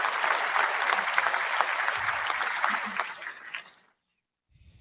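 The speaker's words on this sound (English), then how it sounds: "Let's hear a round of applause for that son of a gun" A studio audience claps and cheers loudly for a few seconds, dense and continuous, then the applause fades quickly into silence and a faint voice starts at the end.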